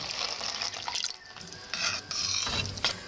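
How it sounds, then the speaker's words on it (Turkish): Water pours from a glass over cooked rice in a pot for Turkish yayla soup, a splashing trickle that swells and fades in several short bursts, close and fairly quiet with no talking. "Pişen pirinçlerin üzerine 2 su bardağı su ekliyorum."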